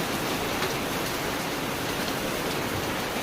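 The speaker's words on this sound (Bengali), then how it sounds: "দেখতে পাচ্ছিস কি বৃষ্টি না এত বৃষ্টি" Heavy rain pours in a dense, unbroken hiss at steady loudness, with no voices.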